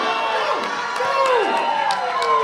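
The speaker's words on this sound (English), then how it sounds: "Crowd cheering him on." A crowd at a national powerlifting meet cheers and shouts continuously for a lifter's deadlift, a loud, sustained roar with scattered individual yells rising above it.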